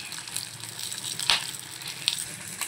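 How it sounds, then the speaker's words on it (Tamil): Garlic, onion and tamarind fry in a pan with a steady close sizzle and hiss, broken by a couple of sharp spits or pops. "அப்படியே கொஞ்சம் ஃப்ரை பண்ணி"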